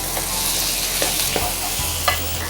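Long capsicum pieces stir-fry in a pan with chilli paste, making a loud, close, constant sizzle broken by a few scraping stir strokes, with no voices.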